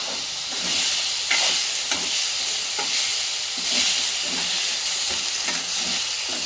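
Large pieces of paneer frying in a pan for palak paneer, a steady loud sizzling hiss with occasional scraping stirs and soft pops, no voices.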